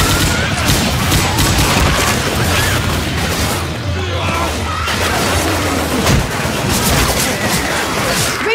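Dense, loud gunfire rattles continuously as players shoot zombies in Left 4 Dead 2, rapid overlapping shots and booms filling the scene with a brief lull midway, while voices speak beneath the shooting.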